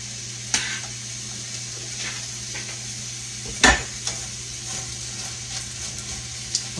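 Onions cooking in a pan for a Southern onion pie, a soft steady sizzle with a few sharp clinks and stirring knocks from a utensil against the pan, no voices.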